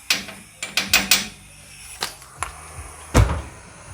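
A ratchet wrench with a 15 mm socket works a leaf spring bolt on a 1999-2017 Chevrolet Silverado, giving a few quick sharp clicks early on, then isolated metallic knocks and a final heavier clunk.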